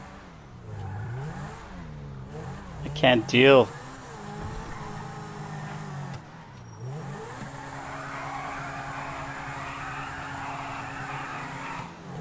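A race car engine in the video game GTA Online revs and whines through gear changes with a brief tire squeal, while a person says a few words over it.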